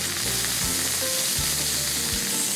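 Beef tenderloin sizzling in a hot frying pan, a close, loud, continuous crackle and spatter with a low hum pulsing underneath.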